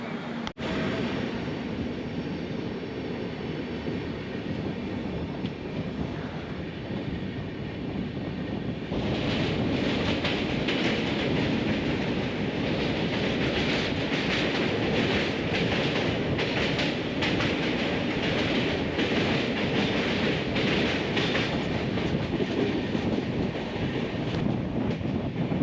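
Kerala Sampark Kranti express train running on rails through Kerala, a steady loud rumble of wheels and carriage noise with wind buffeting, growing louder partway through and continuing throughout.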